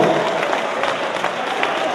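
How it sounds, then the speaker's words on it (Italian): Crowd applause for volunteers at an outdoor community event, a steady dense patter of clapping filling the moment, fairly loud and continuous with no clear voices. "Facciamo un applauso a loro"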